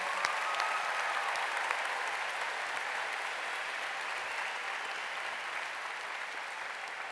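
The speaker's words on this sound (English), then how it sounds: "Let's give them a big round of applause." A large audience at the MINECON 2015 closing ceremony claps steadily for several seconds, a dense, even wash of applause filling the hall without talk.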